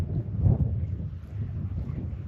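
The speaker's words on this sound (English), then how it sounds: "It is incredibly windy" Strong wind buffets the microphone with a steady low roar, gusting louder at moments, beside an alpine lake above Silverton, Colorado.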